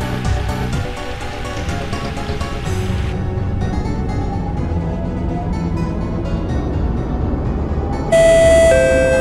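Train door closing chime in the OpenBVE train simulator game, several ringing electronic tones over a low rumbling hum, followed by a louder sustained beeping tone near the end.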